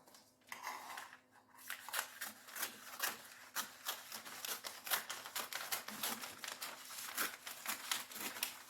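Wrapping paper cut for a gift, scissors snipping in a quick steady run of crisp crunchy cuts with paper crinkling and rustling, close and fairly quiet, no talk.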